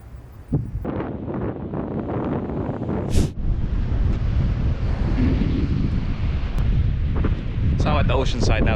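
Strong wind and breaking ocean surf beside a designated beach tent site roar steadily and loudly throughout, with gusts buffeting the microphone and no clear voices.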